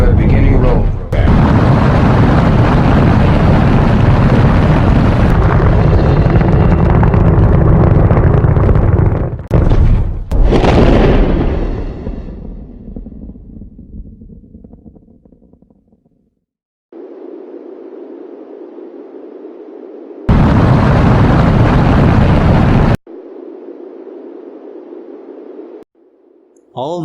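A rocket launching into space roars in a loud, dense rumble for about ten seconds, then fades away, followed by separate flat tonal noise bursts.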